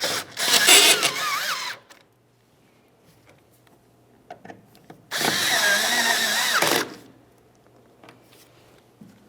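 A power drill drives the taillight mounting screws on a 2005–2010 Dodge Dakota in two loud, close whirring bursts of a second or two each, separated by quiet handling clicks.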